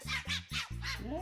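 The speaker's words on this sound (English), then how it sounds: "kind of sounds like a bark" A stressed dog at a pet store gives about four short, loud barks in a quick rhythm, close by, followed by a higher whining yelp.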